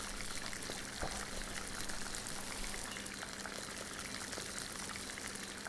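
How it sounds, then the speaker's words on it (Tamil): Cumin seeds and black pepper crackle and splutter in hot ghee for ven pongal, a steady dense hiss of frying with scattered pops, close and continuous with no talking. "ஜீரகம் நல்லா பொரிஞ்சதும் மிளகு போட்டுக்கலாம்."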